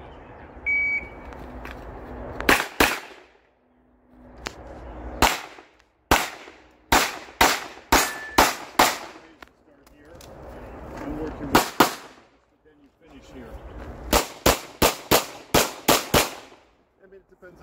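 Gunshots at a USPSA practical shooting match, sharp loud reports fired in quick strings of several rounds separated by pauses, with faint background voices and movement between strings.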